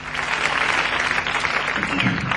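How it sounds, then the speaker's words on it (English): Applause at the end of a live track, a dense crowd roar of clapping heard briefly and loudly throughout. "Just applause, isn't it?"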